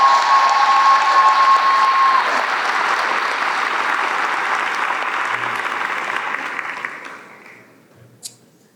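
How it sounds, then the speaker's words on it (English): Steady, full applause from a crowd at a Class Day graduation ceremony, holding strong then gradually fading to quiet over several seconds. "Let's just give another round of applause for class of"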